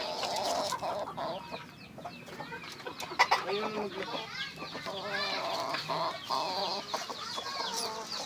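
A red junglefowl (labuyo) clucks repeatedly up close over a steady bed of other fowl sounds and faint background voices.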